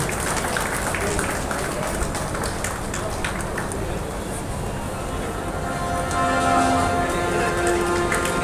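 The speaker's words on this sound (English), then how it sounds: "give a big round of applause one more time" An audience at a formal event applauds, a sustained dense patter of many hands clapping that stays steady and fairly loud throughout, with voices faintly mixed underneath.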